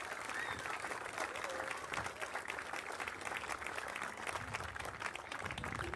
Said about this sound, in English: Everybody clap for everyone.